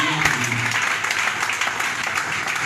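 A church congregation applauding and cheering, a dense continuous wash of clapping heard close and loud with a voice partly mixed in.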